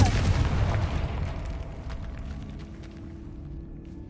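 A Confringo blasting spell exploding in a video game, a deep booming blast at the start that rumbles and fades away over several seconds.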